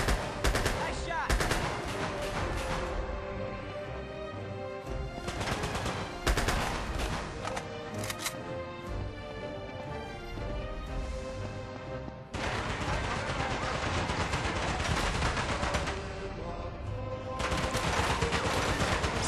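Repeated bursts of gunfire from the handheld action game Uncharted: Golden Abyss, loud and dense with volleys broken by brief pauses, alongside game music and effects.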